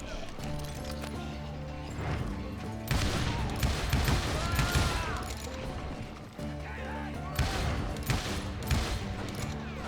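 Gunfire from hired gunmen in the Western video game Call of Juarez, dense bursts of shots over game music, with horse hooves and crashing noises mixed in.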